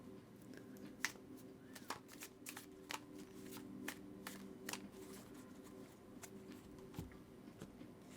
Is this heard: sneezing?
no